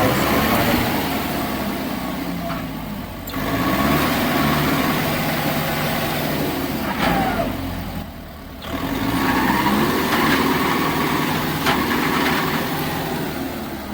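A tractor engine stuck in the field rumbles steadily and loudly throughout, with a brief dip in the middle before the low drone picks back up.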